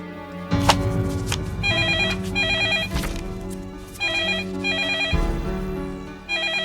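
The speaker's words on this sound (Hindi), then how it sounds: "At least pick up the phone." A phone rings steadily in repeated electronic trills, loud and close, over a low background hum.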